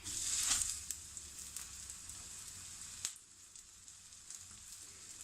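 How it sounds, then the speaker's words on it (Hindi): Flour-dipped chicken cutlets (aloo chicken kebabs) frying in oil, a faint, steady crackling sizzle with scattered pops, a little louder at the start. "मैदे में डिप करके अब इसको हम फ्राई करेंगे"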